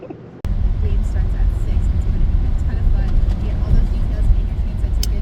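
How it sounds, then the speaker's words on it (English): A car drives through puddles during a hailstorm, heard from inside: a steady, full low road rumble starts abruptly and carries on, with faint ticks and splashes on top. "It's a little exciting to be going through the puddles right now."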